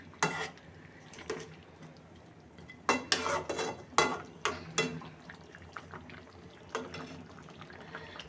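Chicken rezala is stirred in a pot with a series of loud metallic scrapes and knocks of a spoon, then a clattering lid, with soft bubbling between the strokes.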